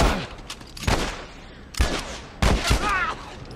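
Gunshots in The Last of Us, three loud booming blasts spaced about a second apart, each with a ringing tail, close and sharp with a brief voice between.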